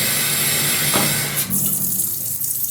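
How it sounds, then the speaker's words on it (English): Water hissing and spraying from a defective Fluidmaster 400A toilet fill valve, a steady close rush with a brief splashy surge partway through. "Yeah, water's spraying out of there."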